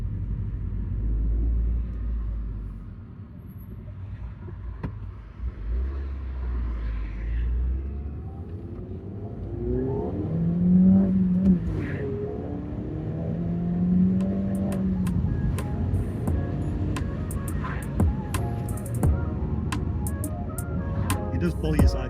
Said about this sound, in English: so you can get a bit of exhaust sound coming in.